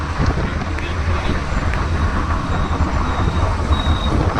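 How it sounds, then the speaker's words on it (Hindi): A cool outdoor breeze buffets the microphone, making a continuous low rumbling roar that swells in small gusts, fairly loud and close. "बहुत ही प्यारा मौसम है, ठंडी हवा चल रही है।"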